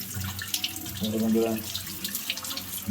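Tap water runs steadily into a sink while raw chicken (desi chicken) is washed for a home-cooked curry, a continuous close splashing rush with faint voices in the background.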